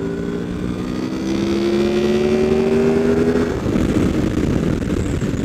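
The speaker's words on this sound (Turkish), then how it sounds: "6500 devire geçtikten sonra makina iyice gaza geliyor." An 800cc motorcycle engine revs hard past 6500 rpm, a loud, steady, rising drone with climbing pitch that then levels off into a rough roar, heard up close with no talking.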